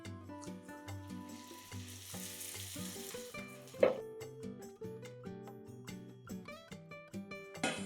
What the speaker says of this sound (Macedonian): Кога убаво ќе ни се испржи зеленчукот, тоест морковот и кромидот